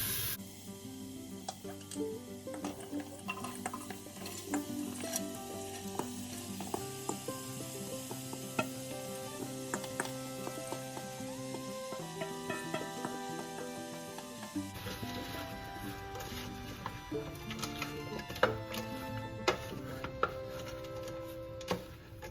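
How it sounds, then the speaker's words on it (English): Minced garlic and a large batch of onions sauté in a pan, giving a steady busy sizzle with clinks and scrapes of stirring throughout, moderately quiet and without talk. "And we are going to let these onions cook until they are caramelized"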